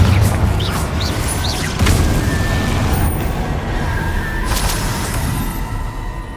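A Confringo blasting spell bursts in Hogwarts Legacy, a loud, dense rumbling blast that roars steadily throughout with crashing debris and brief higher whooshes layered on top.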